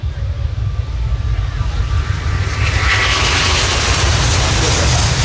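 A Junkers propeller ground attack aircraft's engine roars steadily and loudly as it accelerates away on takeoff into a steep climb at an air show, a broad rushing drone that builds slightly in intensity.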